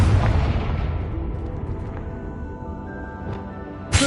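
In Hogwarts Legacy, the Confringo fire spell detonates in a deep, booming blast that rumbles and slowly fades, with a sharp burst at the very end.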